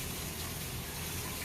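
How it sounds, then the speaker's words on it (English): Water gushing steadily into a home aquarium tank during a water change, a continuous close rushing flow with no pauses and no talk over it. "Let me finish filling this tank up."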